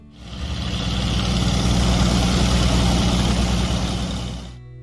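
An International Harvester 856 tractor engine idles with a steady, loud low rumble that swells in at the start and tapers off at the end.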